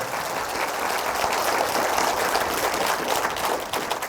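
A dense burst of clapping from an audience at a Buddhist monk's talk in Busan, continuous and fairly distant, rising slightly mid-way before tapering at the end, with no talking over it.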